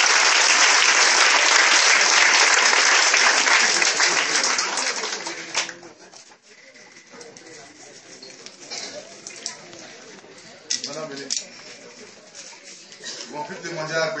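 Church congregation bursting into loud, dense applause that fades to scattered claps after a few seconds, with people speaking over it as it dies down.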